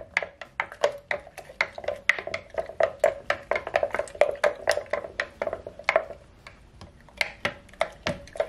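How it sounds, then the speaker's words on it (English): A spoon stirs iced coffee in a cup or mason jar, clinking rapidly and repeatedly against the sides with a bright, steady rhythm, close and fairly loud, with no talking. "You want to give it a stir."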